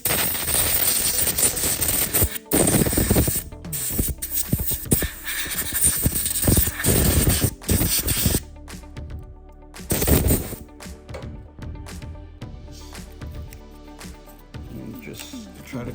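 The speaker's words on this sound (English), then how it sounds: "Try to blow everything out." Compressed air blasting in sharp, repeated bursts inside a Ricomas 2002 8S embroidery machine with the bobbin case removed, loud hissing gusts alternating with brief pauses and machine clatter.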